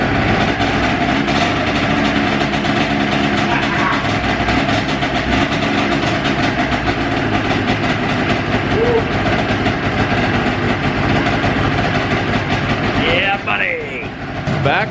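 Ski-Doo 470 snowmobile engine running loud and steady close by, a continuous two-stroke drone with slight rise and fall, revived after storage, with rollers under the track.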